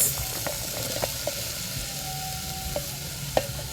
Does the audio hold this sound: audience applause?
no